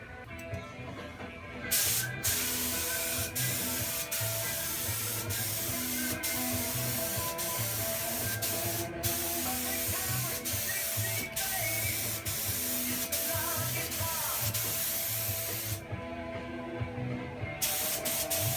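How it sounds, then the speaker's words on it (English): Spray gun laying primer coats onto a car trunk lid during auto body repair, a steady loud hiss that runs almost unbroken, with brief pauses between passes and faint mechanical ticking underneath. "So we're gonna put 3 coats of primer on it."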